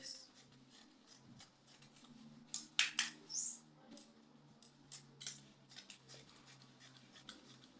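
Scissors cut fabric for a skirt in a quiet room, giving a handful of crisp snips and blade clicks in a brief cluster, close and fairly quiet, with a faint low hum beneath.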